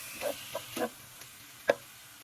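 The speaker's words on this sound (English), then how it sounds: "So we're just gonna stir this up and keep breaking it into chunks until it's all cooked and browned." Ground meat being stirred and broken into chunks as it browns in a pan for lettuce wraps, heard as a few separate scraping and clicking stir strokes over a faint, quiet sizzle.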